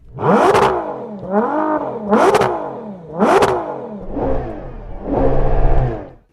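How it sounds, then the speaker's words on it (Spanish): Lamborghini Urus engine on its factory exhaust revving hard in repeated bursts, about four sharp loud rises each falling away, with a rumbling idle between and a final longer rev. "Hay un buen sonido saliendo de sus escapes, algunos truenos y estallidos."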